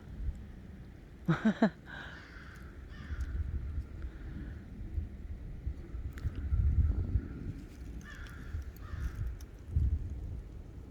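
A crow caws a few times early on, then more distant bird calls sound over a steady outdoor rumble of wind, in autumn woods with fallen leaves.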